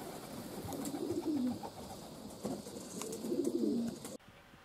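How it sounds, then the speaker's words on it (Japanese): Pigeons coo in low, throaty bursts, two main rounds with some flutter of landing birds, fairly close against outdoor background noise. "降りてきた鳩たちの様子はどうでしょうかね。"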